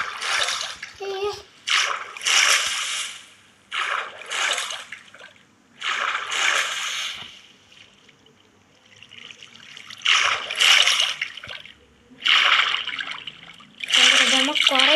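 Water flows and drains in the Minecraft video game, heard as loud, rushing splashes that start and stop in short bursts, with a voice talking in between.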